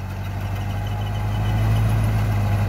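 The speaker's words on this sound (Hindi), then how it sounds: "मास्कियो का रोटावेटर है, 8 फीट का है, फुल लोड। देखो दब गया ट्रैक्टर मोड़ पे आके" Tractor engine working under full load, pulling an 8-foot Maschio rotavator while puddling a field; a steady, loud low drone with a slight rise in intensity, no talk.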